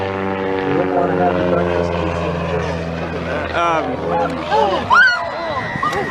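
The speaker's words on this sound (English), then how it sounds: "There goes the airplane." Engine drone with steady tonal harmonics of a passing aircraft, fairly loud throughout, with excited voices talking and exclaiming over it.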